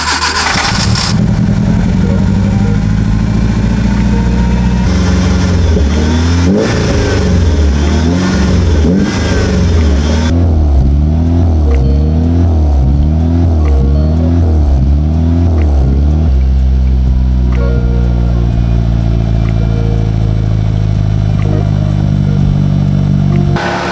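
A Proton Saga car engine, just refitted with a new gearbox, starts up and idles before several sharp revs in a rhythmic burst, then settles back to a steady idle, loud and close with no talking.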